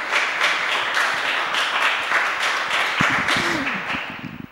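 A church congregation claps during a Sunday service, brisk applause of many hands in a hall that carries on for several seconds, thins out near the end and mixes with a few murmured voices.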